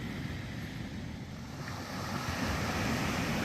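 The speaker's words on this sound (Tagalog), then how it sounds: "So dito lang yung dagat." Sea waves wash steadily onto Casapsapan Beach near Parang Hills, a continuous broadband surf roar with some wind noise, growing slightly louder toward the end, with no voices.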